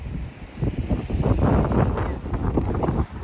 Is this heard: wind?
yes